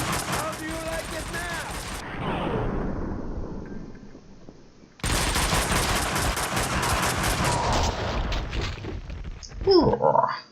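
Heavy sustained AK rifle gunfire in the Max Payne 2 video game, a loud dense rattle of rapid shots running in two long bursts with a short gap between, mixed with game dialogue and a speaking voice.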